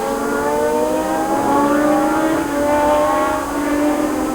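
A historic Formula 1 race car at Magny-Cours passes with a high, wailing engine note that climbs and shifts down in tone, loud and sustained with a second engine layered underneath.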